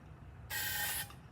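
Spray paint hisses from a nozzle into a narrow-topped container in one short, steady burst of about half a second, bright and close, starting and stopping abruptly against a quiet background.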